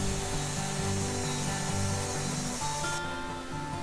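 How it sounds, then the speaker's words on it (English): A sawmill quarter saws ash logs into lumber, giving a continuous loud machine drone with repeating tonal hum patterns and a steady cutting rasp throughout. "here we're quarter sawing,"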